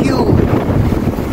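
Strong outdoor wind buffets the microphone during a barbecue grilling session, a continuous loud roaring rush with no breaks.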